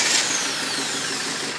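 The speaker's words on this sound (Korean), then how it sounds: "엔진 소리는 어떤지" Diesel engine of a Ssangyong Korando Sports tow truck fitted with a non-powered turbo, idling steadily as a broad, even rumble with hiss, close and continuous with no talking.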